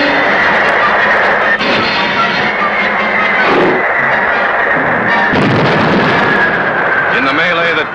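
Torpedoes launch from the WWII US submarine Jack near Tokyo: loud, sustained rumbling thumps and rushing bursts fill the whole stretch, with dull blasts punctuating a constant heavy roar.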